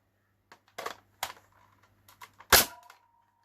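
An X-Shot Pro Series Longshot dart blaster fires its included darts: a few sharp clacking snaps and mechanical clicks, ending in one loud, close shot with a brief ringing tail.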